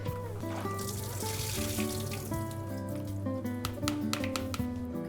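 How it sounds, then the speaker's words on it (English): Running water from a kitchen tap pours steadily into a sink while almonds are washed and strained, a loud continuous splashing rush with some clatter, no talking. "we're bringing it over to the sink, we're washing the almonds and straining it"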